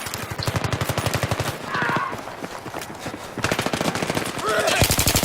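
Rapid automatic gunfire rattles loudly and almost continuously in multiplayer Battlefield 3 combat, with sustained bursts and brief shifts, while a voice shouts over it.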